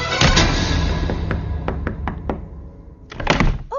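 Repeated knocking on a door in a Hindi comedy film scene, a run of loud close raps followed by several spaced single knocks, then another quick burst of knocks, with no talking.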